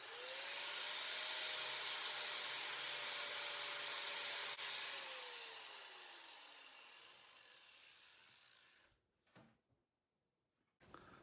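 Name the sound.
improvised homemade lathe spinning a fitting on threaded rod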